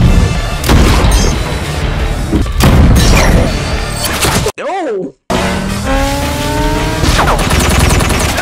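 Gunfire and explosive booms from the Deadpool (2016) film, loud heavy blasts with screeching and crashing between them, plus a brief exclaimed voice and a short sudden drop into near silence partway through.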